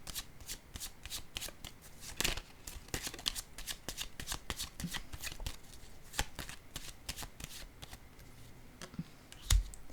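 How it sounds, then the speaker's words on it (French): Tarot cards are handled and laid down on a table during a reading, giving a quick run of light, close flicks and soft taps with one firmer slap near the end, with no talk. "je vais juste déposer une autre carte ici"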